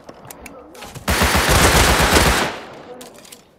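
An MP5 fires in a video game, a loud sustained burst of rapid automatic fire lasting over a second, with a voice speaking faintly around it.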